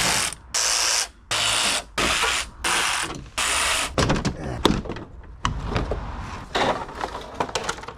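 Ratchet working on the under tray of a Peugeot RCZ HDI, loud bursts of rapid clicking repeated in a steady rhythm, then clunks and rattles of the panel and fasteners coming loose.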